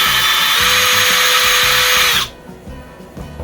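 An electric drill bores a second hole through a lightsaber hilt PCB holder, a loud steady whine for about two seconds that cuts off abruptly, leaving faint handling noises.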